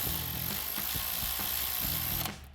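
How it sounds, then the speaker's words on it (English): A 12mm socket on a ratchet tightening a nut on a bracket during a Toyota Tacoma coil-over install, giving rapid, close mechanical clicking in quick bursts that cuts off at the end. "now we can install our 12mm nut for the bracket and tighten that down with our 12mm socket"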